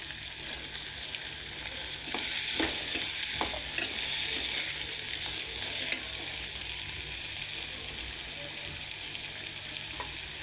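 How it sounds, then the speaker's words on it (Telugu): Beans frying in a pan with fenugreek powder give a constant dense sizzle, with a few soft scrapes of stirring early on, steady and close with no voices. "బీన్స్ వేసుకోవాలి"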